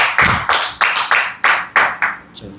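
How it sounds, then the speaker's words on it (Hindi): Children clap in applause, about ten distinct claps in a quick, slightly uneven rhythm, close and fairly loud, with no talk over them. "बहुत सुंदर, तालियां बजाइए इनके लिए।"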